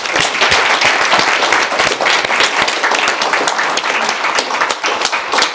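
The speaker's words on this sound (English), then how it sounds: "So another round of applause." Loud, dense audience applause at the NYPSC 2022 awards ceremony, many hands clapping vigorously and continuously from close by.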